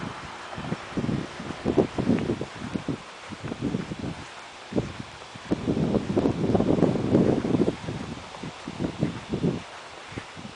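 Gusty wind blows through a yard after a storm, rustling leaves in uneven surges that swell loudest midway, with no one talking.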